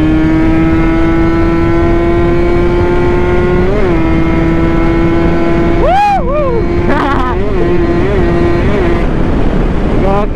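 A Kawasaki Ninja motorcycle accelerates along a straight road, its engine a loud, close, steady drone that rises slightly in pitch, with a few sharper revving swells near the end.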